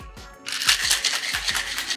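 A Long Island Iced Tea gets a hard shake with ice in a cocktail shaker, producing a quick burst of rattling, clattering ice that starts abruptly and stays close and fairly loud for about a second and a half.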